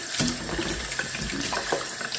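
Tap water runs steadily over a freshly dug vegetable being rinsed in a sink, a close, continuous splashing stream with small shifts as the produce is turned under the flow.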